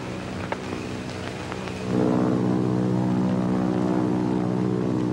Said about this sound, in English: Might be Army planes.